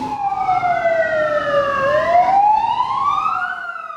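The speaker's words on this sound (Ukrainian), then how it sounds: "Символічно пролунали тривожні гудки пожежних машин." Fire truck sirens wail loudly at a Chernobyl disaster anniversary commemoration in Irpin, their rising and falling tones crossing each other over a low traffic rumble.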